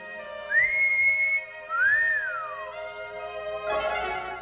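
A two-note wolf whistle from a 1960 sci-fi comedy, aimed at a woman in a bathing suit: a rising sweep, then a longer rising-and-falling tone, loud and close, followed by a brief rustling thud.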